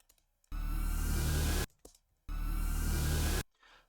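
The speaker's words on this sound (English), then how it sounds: "What I've done is I took a suck back," A reverse suck-back whoosh built for a nuclear explosion, played twice: each one swells abruptly into a loud, full-spectrum rushing roar for about a second, then cuts off sharply, with brief quiet between.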